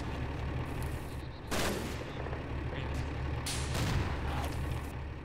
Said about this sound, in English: there's another big gun firing out there somewhere